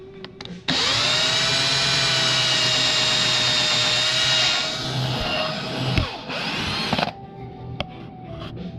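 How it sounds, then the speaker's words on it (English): A power drill whines loudly and steadily for several seconds while drilling Osage orange wood for a candlestick holder, its pitch dipping briefly under load before it winds down and stops. "Now I'll drill the hole a little bigger than this with a bigger drill bit"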